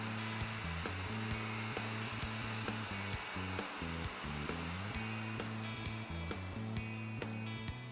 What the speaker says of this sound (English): Then route counterclockwise, running the guide pin against the guide to clean up the tenon.